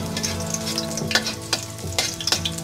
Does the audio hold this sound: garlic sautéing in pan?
yes